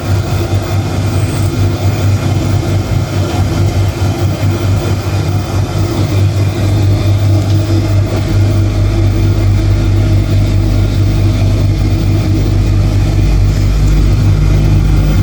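A domestic dishwasher runs in a home kitchen, a loud, steady low hum with a constant broadband wash noise that holds evenly throughout, with no talk over it.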